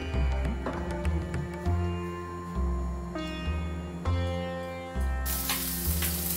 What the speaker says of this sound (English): Add bit of oil into the frying pan.